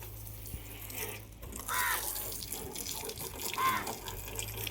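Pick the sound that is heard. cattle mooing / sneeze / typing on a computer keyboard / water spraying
water spraying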